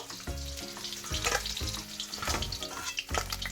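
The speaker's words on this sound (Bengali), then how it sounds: "মাছগুলো আমার ভাজা হয়ে গেছে এবার তুলে নেবো" Pieces of katla fish for a dahi katla curry fry in hot oil in a kadai, a dense, steady sizzle with soft clinks and stirring scrapes of a utensil, close and fairly loud with no talking.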